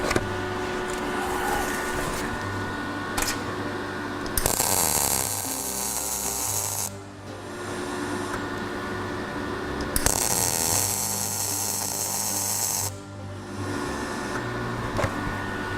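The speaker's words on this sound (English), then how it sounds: "I can get a couple of bits of weld in there," Welding a patch into a rusty car body panel, with two long bursts of loud crackling, hissing arc over a steady electrical hum, separated by quieter stretches.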